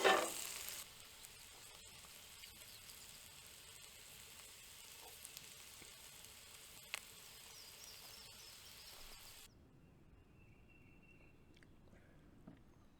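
Eggs with broken yolks frying in a pan at a low-cost campsite in Indiana, a faint steady sizzle with a few soft clicks, close by, fading quieter near the end.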